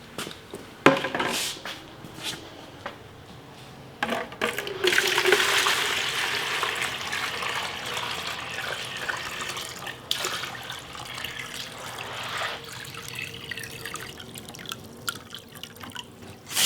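Clean potable water poured into a bucket to mix thinset, trickling and splashing close by with scattered drips; the flow swells in the middle of the pour, then thins to dribbles, with no talk.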